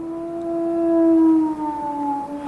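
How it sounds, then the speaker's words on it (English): Eerie, drawn-out howl on the moor as a radio drama effect, a single sustained wailing tone that swells and slowly bends in pitch, loud and alone. "They say it's the cry of the Hound of the Baskervilles"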